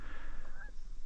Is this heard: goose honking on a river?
yes